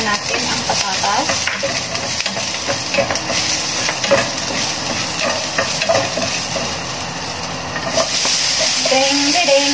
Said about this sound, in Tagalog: So, mainit na yung ating kawali. So, gigisan muna natin ang patatas.